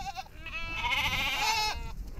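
Goats in a herd bleat loudly and close by in hot, dry Kenyan herding country, a wavering drawn-out cry standing clear of faint background noise.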